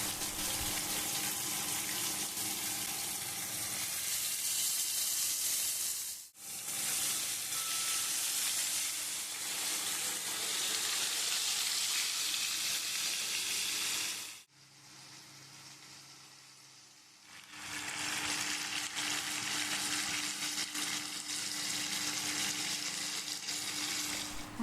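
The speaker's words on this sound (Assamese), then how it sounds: "প্ৰথমতে এতিয়া মাছকেইটা ভাজি ল'ম পেনখনত।" Fish fry in a pan with a loud, continuous hiss of sizzling oil that drops out briefly twice before resuming, with no one talking.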